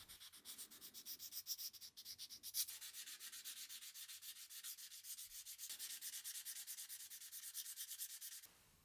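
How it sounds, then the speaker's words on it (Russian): Knife handle corners being sanded by hand for a batch of six folding knives, a rhythmic back-and-forth rasp of abrasive strokes, close and steady, with a brief pause midway and no voices. "и дополнительно зашкуриваю углы"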